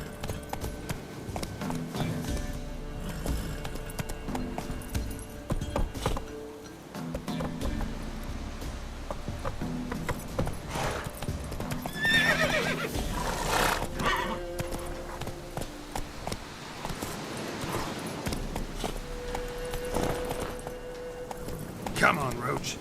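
Roach the horse gallops through The Witcher 3 video game in a long stretch of rapid hoofbeats. Neighs and whinnies come through over game music and ambient noise, and a voice speaks briefly.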